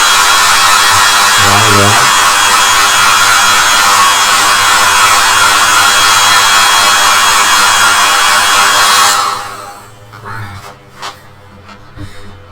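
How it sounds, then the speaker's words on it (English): A hair dryer blows with a steady loud whir for about nine seconds, drying paint on a small wood carving, then clicks off, leaving a quieter room with a few faint knocks. "I'm going to take my hair dryer and I'm going to dry that"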